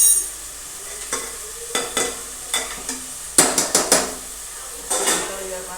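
A metal spoon repeatedly clanks and scrapes in a pan of green onion and tomato with spices, in a sharp irregular rhythm over a soft sizzle, with no voices.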